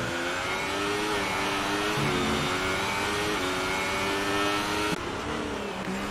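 A McLaren race car in an online racing game at the British GP holds a steady, loud high-revving engine drone with small gear-shift dips, alone without talk.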